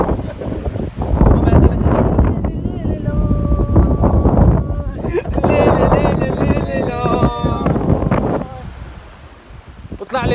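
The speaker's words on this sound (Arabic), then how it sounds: "وفجأة هبت رياح قوية رياح عاصفية" Strong stormy wind buffets the microphone at a Moroccan beach, loud gusty roaring that rises and falls, with voices talking over it and a few tonal cries in the mix.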